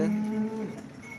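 A single low cow moo sounds out clearly at a livestock market, then trails off into quiet background.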